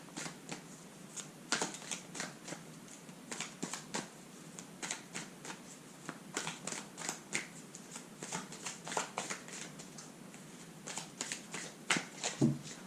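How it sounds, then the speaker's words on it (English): A deck of tarot cards is shuffled repeatedly, giving quiet, close riffling bursts and soft taps in an irregular rhythm over a near-silent room. "as I shuffle my cards"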